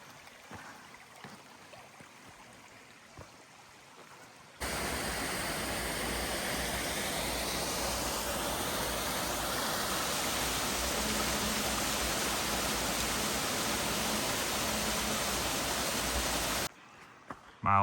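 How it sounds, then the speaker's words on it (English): A creek rushes through the Sages River area along the Appalachian Trail near Mount Everett, its steady broadband roar loud and close for most of the stretch, with quieter ambient moments at the start and end. "creek environment"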